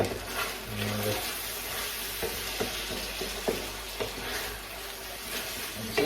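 Vegan chilli garlic chicken being stirred in a frying pan, with a steady sizzle and occasional utensil scrapes and taps against the pan, close and continuous.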